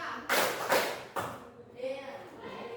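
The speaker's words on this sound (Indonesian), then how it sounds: "Tepuk 1, tepuk 2," A school class claps in counted single claps during a ninth-grade maths lesson, a few sharp separate claps spaced about half a second apart, then a softer pause with faint voices.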